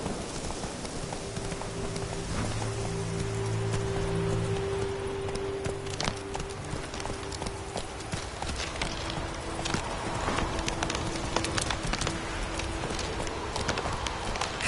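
Horse hooves clip-clop steadily through rain in The Witcher 3, a continuous patter of rain underneath the rhythmic footfalls, moderately close and with no speech.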